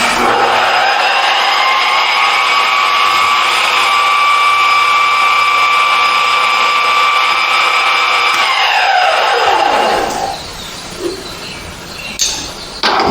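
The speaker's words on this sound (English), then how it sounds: "I'm going to drill the hole." A steady, loud whine of a column milling machine drilling a hole runs for about eight seconds, then winds down and stops, followed by a few light clicks and handling noises.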